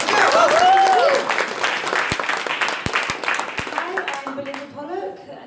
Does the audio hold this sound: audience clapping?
yes